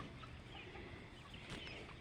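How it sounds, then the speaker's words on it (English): Baby chicks among little chickens on a farm cluck and cheep faintly, with soft scattered calls under a steady background hiss. "There's some baby chicks, but here I'll teleport."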